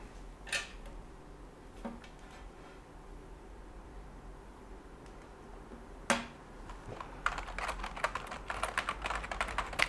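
Typing on a computer keyboard, with scattered single clicks early on and then a dense, fast run of close keystrokes toward the end.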